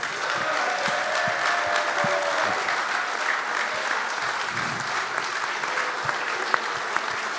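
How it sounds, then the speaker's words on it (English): Steady crowd applause for performers on stage at a Dublin League Cup celebration, a broad continuous wash of clapping from a large audience, moderately loud throughout. "Give them a big round of applause"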